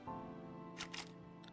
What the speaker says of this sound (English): I stare at it until the shutter clicks and the view goes dark.